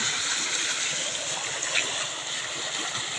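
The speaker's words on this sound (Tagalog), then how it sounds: "Lakas ang pasok ng tubig." A loud, continuous rush of water gushes through a breach in a fishpond dike after a storm, pouring steadily without pause, close and broad like a strong flow through an opening.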